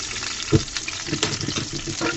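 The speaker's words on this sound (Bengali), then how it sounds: "তেলটা দিয়ে কয়েকটা শুকনো মরিচ দিয়ে দিলাম" Dried red chillies fry in hot oil with a soft, close crackle and sizzle, broken by a sharper pop early on and a few quick clinks as they are stirred.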